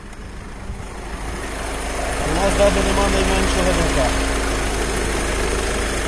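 A 2012 Volkswagen Touran Cross 2.0 TDI diesel engine, warmed up, idles with a steady low rumble and clattering vibration, growing slightly louder midway, while someone talks over it.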